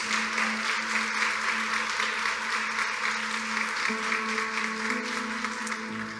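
A church congregation applauds during a Portuguese-language service, with steady clapping throughout and a sustained organ or keyboard chord beneath it, fairly even in loudness.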